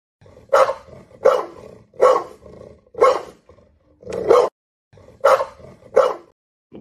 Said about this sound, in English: Tate is playing a dog barking